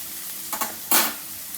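A ginger, garlic and onion spice paste fries in a pan with a steady hiss, broken by a couple of quick scraping stirs close up.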